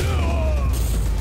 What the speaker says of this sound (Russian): Фейерверки. Загорелись.